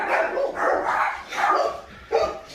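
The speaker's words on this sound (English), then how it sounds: "Dogs are going to start going crazy because I think they're getting back from the store." Dogs bark close by in a quick series of four loud, rough barks with short gaps, with no talking.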